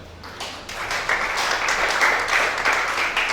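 A church congregation applauding during a televised Sunday worship service in Gabon, steady dense clapping that swells and holds for several seconds without pause.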